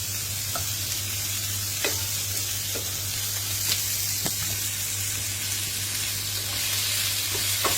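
Penne pasta and artichokes sizzle in a pan, a steady close hiss of frying with a low hum beneath and occasional light clicks and taps, with no voices.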